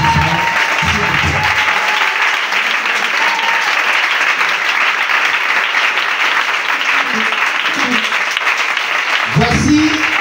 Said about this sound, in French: je vais demander de recevoir ses beaux applaudissements